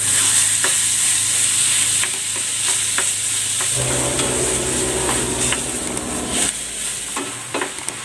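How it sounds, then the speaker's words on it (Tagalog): Ground beef and onion sauté in a hot pan for shawarma, a constant close sizzle with a spatula scraping and stirring at irregular intervals. "Igisa ko na tong ground beef."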